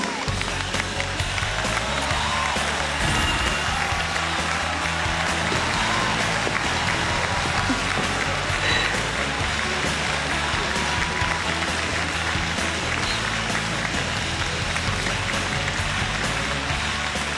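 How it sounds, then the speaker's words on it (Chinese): A studio audience on a television job-interview show applauds to welcome a young woman contestant onto the stage, with thick, continuous clapping that fills the whole stretch at a steady loud level. "我们掌声有请"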